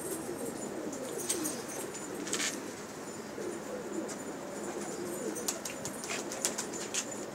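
Pigeons of an old, rare breed coo softly in a steady low murmur, with brief wing flaps and faint chirps overhead, no voices.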